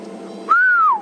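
A person whistles to imitate a fish eagle's call, one clear, loud rising-then-falling whistle lasting about half a second over faint background hiss.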